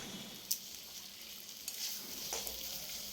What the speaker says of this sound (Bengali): আমি এবার এই যে কড়াইয়ের মধ্যে তেল দিয়ে একটুখানি নেড়ে চেড়ে নিচ্ছি ভালো করে ভেজে নিচ্ছি